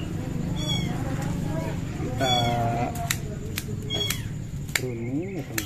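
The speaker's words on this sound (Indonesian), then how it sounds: "banyak suara kucing-kucing kecil" Several high, thin kitten meows repeat over a constant low hum, and a person speaks briefly among the cries.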